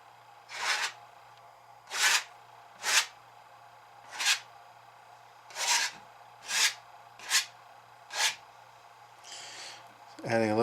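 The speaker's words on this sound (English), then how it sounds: "Right now I'm only scraping in one direction" Paint is scraped in one direction across a painting in a steady series of about eight rasping strokes, each a short, close, breathy scrape with brief pauses between, followed by a softer rub and a final clunk.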